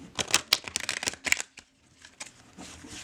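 A large, bendy tarot deck is shuffled by hand in quick riffling bursts, close and crisp, then trails off into quiet.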